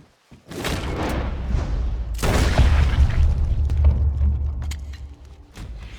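A gun goes off in a Western action game, with a sharp close report followed by heavy booming thuds and a long rumbling tail that fades out.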